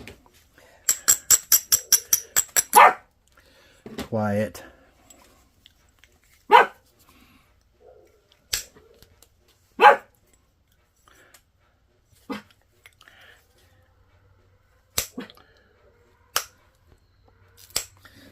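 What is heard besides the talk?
small dog barking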